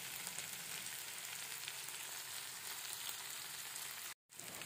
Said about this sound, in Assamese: ইয়াতে মই গৰম পানী দিছোঁ